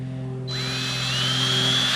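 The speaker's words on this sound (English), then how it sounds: "I am pre-drilling some holes for the lag bolts." Power drill pre-drilling holes for lag bolts in a tent platform, a steady motor whine that kicks up in pitch partway through and keeps running loud and close.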